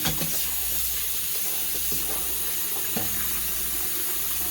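Running tap water pours steadily over defrosted cassava leaves being rinsed in a sink, a continuous close hiss and splash with faint intermittent knocks and rustles of the leaves.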